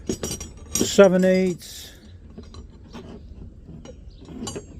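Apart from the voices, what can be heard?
double box end Dunlap wrenches clinking while handled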